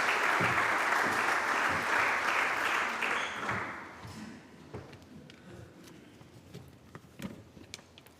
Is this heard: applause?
yes